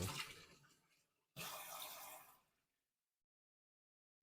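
Warm tap water runs close by while bonsai roots are rinsed, with two bursts of splashing flow, the first about a second long and the second a little longer, then the water stops and silence follows.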